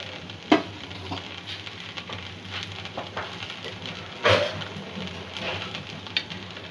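A rava dosa made from semolina batter fries on a pan as oil is drizzled around its edges, giving a steady soft sizzle with a few small crackles and pops.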